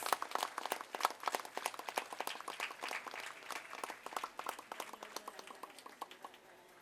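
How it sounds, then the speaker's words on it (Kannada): An audience at a community get-together inauguration claps steadily, a fairly distant spread of individual hand claps in a busy uneven rhythm that slowly thins toward the end, with no talking over it. "Please give a big round of applause."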